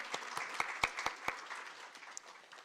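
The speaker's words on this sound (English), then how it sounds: "You can give them a round of applause again." A round of applause at a teaching and learning festival, a smallish audience clapping fairly quietly with a few loud, distinct claps standing out early before the sound tapers off.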